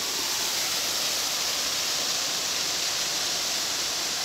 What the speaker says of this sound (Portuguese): É a cachoeira.